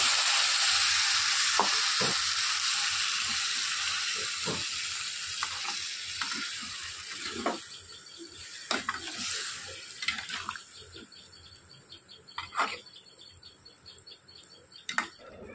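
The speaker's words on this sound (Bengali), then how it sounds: "ঝোলটা ফুটে গেছে" A curry gravy with potato, pointed gourd and eggs simmers in a pot. It makes a faint, steady bubbling sizzle with occasional soft pops and clinks, and the sound fades somewhat toward the end.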